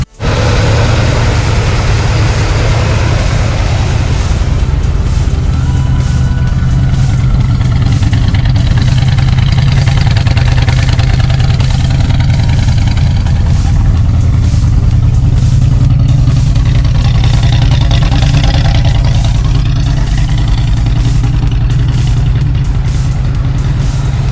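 A classic truck's 350 V8 idles steadily and loudly throughout, a deep continuous rumble with a slightly uneven lope and no voices over it.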